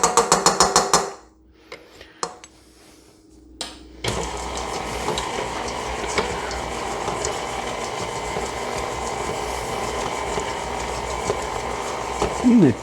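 An electric mixer beater churns sweet potatoes and butter. A short burst of whirring is followed by a near-silent pause, then a steady, loud mechanical whir runs to the end.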